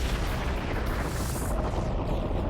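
A dramatised supernova explosion rendered as a deep, continuous roaring rumble, dense and loud from start to finish, with a brief brighter swell partway through and no voices.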